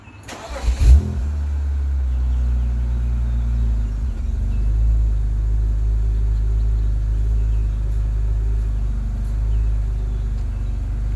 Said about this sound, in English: You can hear it's got a little bit of a burble, a little bit of a rasp. Not a lot, but for a stock exhaust, it's not bad.